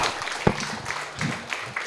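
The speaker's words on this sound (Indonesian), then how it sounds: "Ya, tepuk tangan." An audience gives brief, moderate applause after a youth and decarbonisation talk in Indonesia, scattered claps with a low murmur of voices underneath.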